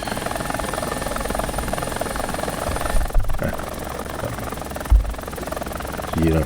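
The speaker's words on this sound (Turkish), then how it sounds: "K-50 e ünlü helikopter bu." A Ka-50 helicopter's rotor in the video game War Thunder drones steadily and loudly throughout, with a couple of brief thumps near the middle and a faint voice underneath.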